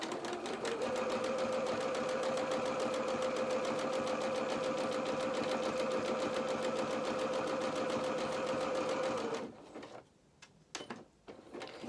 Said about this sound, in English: let's go back to our zigzag stitch